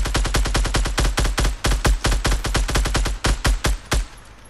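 Rapid automatic gunfire in Fortnite shooting down built walls: dozens of loud, close shots in steady bursts with short pauses, no talking.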